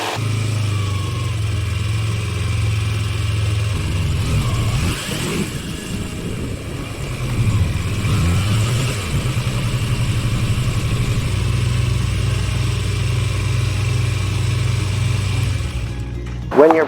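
A motorcycle engine idles low and steady, then surges through a couple of throttle revs that rise and fall in pitch before settling back to a rumbling idle, close and fairly loud, with no talking.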